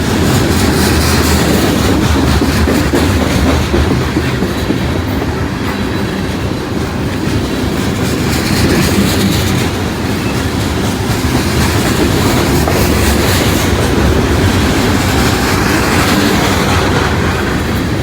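A train rumbles loudly and steadily past in Princeton, Indiana for the whole stretch, with a dense low roar and faint rhythmic clatter of wheels on rails.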